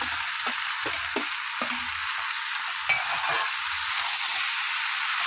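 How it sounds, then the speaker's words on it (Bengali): Shrimp and boiled Malabar spinach stir-fried in spice paste, a continuous close sizzle with rhythmic scraping and stirring knocks throughout. "চিংড়ি মাছগুলো মশলার সাথেই আমি কষে নেব"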